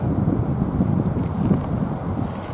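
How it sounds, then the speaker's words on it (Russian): Steady wind buffets the microphone with a low, continuous rumble and gusty roar throughout, with no other clear sounds. "Ветер холодный теперь."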